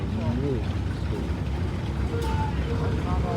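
A scale model Kaiser steam engine rolls along in a parade of power at an engineers' historical show, giving off a steady low rumble and chuffing, with occasional faint whistle-like tones in a busy outdoor setting.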